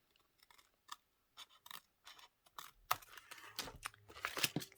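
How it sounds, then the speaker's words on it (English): Paper folded and then cut with scissors, a sequence of short, close snips and crisp rustles with brief pauses, growing busier and louder toward the end. "I'm going to fold it. And then I'm going to cut it."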